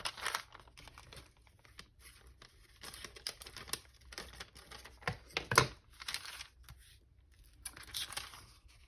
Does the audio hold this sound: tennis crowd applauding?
no